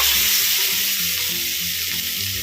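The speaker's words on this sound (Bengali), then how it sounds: "এবার আলু সেদ্ধ করার জলটা দিয়ে দেবো।" Water saved from boiling potatoes is poured into a pan of sizzling cumin, chili and potatoes, a loud, close, steady hiss of frying with gurgling bubbles beneath.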